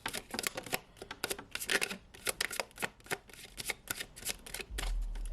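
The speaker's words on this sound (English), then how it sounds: "We're going to give you 3 more shuffles as per the usual." A deck of tarot cards being shuffled by hand in quick repeated riffles and snaps, crisp and close, in bursts with brief pauses and a low hum rising near the end; no speech.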